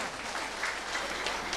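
A crowd claps at a village market building inauguration ceremony, a brief, even burst of applause at moderate distance with no voices over it.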